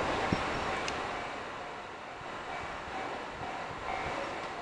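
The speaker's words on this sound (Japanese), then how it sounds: "まもなく1番線を列車が通過いたします。" A train hauled by an EF81 electric locomotive with 24-series coaches rumbles through Kitamoto station without stopping at a steady pace, with a broad rushing noise and faint rattling clicks of wheels on track.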